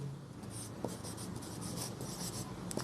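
Pen writing on paper during a geometry lesson on lines and angles, soft scratchy strokes in a quiet room, close and faint, with short bursts of scribbling.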